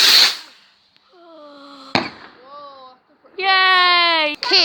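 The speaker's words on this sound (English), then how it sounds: "Those were rockets" Bonfire night firework rockets burst with sharp, loud cracks, each followed by descending whistling or screaming tones, and a final long rising shriek cut off by another bang; excited voices cheer nearby.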